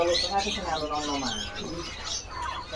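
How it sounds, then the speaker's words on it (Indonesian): A male red siskin kept at a bird market sings in bright chirps and twittering phrases, close and fairly loud, while someone talks over the song. "ready juga untuk red siskin jantan gacoran nih"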